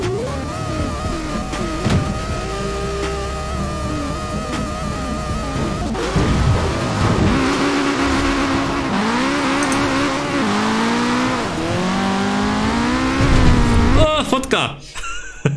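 Several Nissan cars in the racing video game Forza Horizon 4 launch off the start line together, their engines droning loudly and climbing in pitch as they accelerate, with a rough burst near the end.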